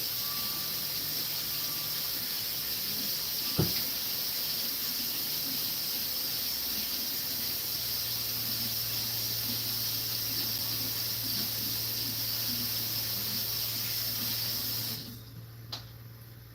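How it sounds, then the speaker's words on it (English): Water runs from a tap during handwashing as a steady, fairly quiet hiss for about fifteen seconds. It then shuts off and leaves near silence. "I'm going to go check chat after I wash my hands"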